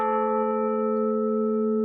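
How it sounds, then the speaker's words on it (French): A single carillon bell at Rouen Cathedral, struck by its clapper, rings as one sustained tone with a bright overtone series that decays slowly and evenly, with no voices. "en lançant une touche, on va tirer près de la cloche son battant"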